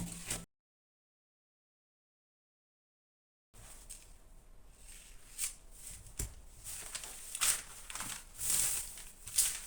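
A fabric sleeve pattern being cut out with scissors: after a few seconds of silence, close crisp snipping and rustling of cloth and paper builds in uneven bursts.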